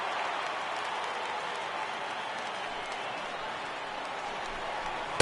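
Video game baseball stadium crowd of over 37,000 cheering and applauding steadily as a broad, loud roar that holds evenly throughout, with a brief sharp peak right at the end.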